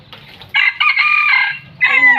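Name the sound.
chicken (rooster) crowing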